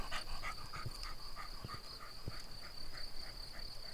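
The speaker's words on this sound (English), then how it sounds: "All you can hear is Wally panting." A dog pants in quick rhythmic breaths close by on a countryside walk in the Limousin, France, with a constant high chorus of crickets behind it.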